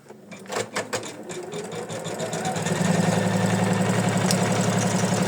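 Embroidery sewing machine stitching an applique placement line for an in-the-hoop ornament, starting with a few separate thumps and then running as a loud, steady, rapid mechanical drone close by.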